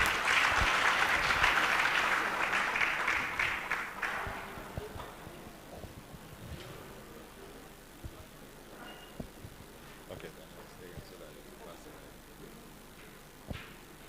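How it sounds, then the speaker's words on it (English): A crowd applauds at a teachers' certificate award ceremony. The clapping is loud and dense for about four seconds, then thins and fades into a quiet hall with a few scattered claps. "Please, a round of applause for him."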